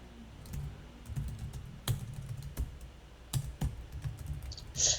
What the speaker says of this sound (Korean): 주소는 그냥 타이핑을 해버리겠습니다.